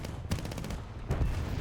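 Aircraft strafing gunfire in War Thunder: rapid bursts of loud automatic fire, a dense run of shots early, then a second heavy burst after a short lull, with no talk.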